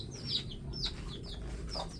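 A mother hen with many chicks near a rural hut, brief soft clucks and high peeping chirps repeating over a low steady background hum.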